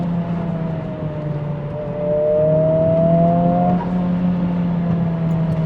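A 2023 Honda Civic Type R FL5 driven fast on back roads, engine droning loudly from inside the cabin, revs rising then a shift and climbing again, with steady road noise throughout.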